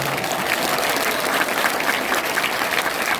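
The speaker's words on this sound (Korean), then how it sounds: "박수 한번 쳐주세요." An audience at a church talk claps steadily in dense, even applause that fills the room from start to finish without a break.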